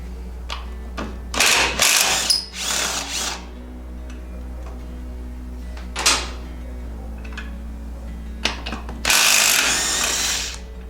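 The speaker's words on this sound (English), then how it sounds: "Get this wheel off." A ratchet clicks in bursts while a wheel comes off a 1932 car raised on a Hein Warner jack and blocked up, with loud ratcheting spells near 1.5, 2.5, 6 and 9–10.5 s over a steady low hum.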